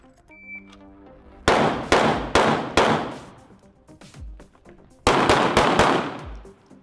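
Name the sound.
gunshots during shooting drill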